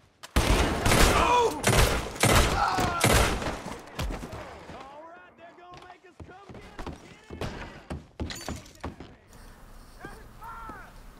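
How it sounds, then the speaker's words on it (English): A Schofield revolver fires in a Red Dead western video game: a rapid burst of loud, sharp shots, then scattered quieter shots and thuds, with someone talking at times. "Now, that is the Schofield revolver, and it is one of my favorite in the game"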